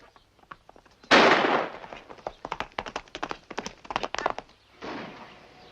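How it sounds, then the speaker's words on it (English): Rifle fire in a film, a burst of sharp cracks and pops in quick irregular succession after one loud initial blast, with faint noises before and a final softer rush of noise. "Rifle fire."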